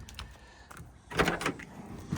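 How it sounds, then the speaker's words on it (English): The sticky door latch on a 1974 squarebody crew cab truck gives a few short metallic clicks, then a louder clunk of the latch and door. The sounds are close up and brief, and nobody talks. "Door latch sticks a little bit."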